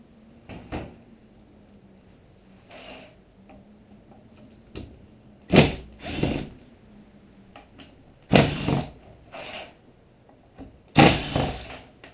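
Screws being removed from a Briggs and Stratton plastic carburetor on a Poulan mower, heard as several separate close clicks and clattering knocks spaced out over quiet gaps.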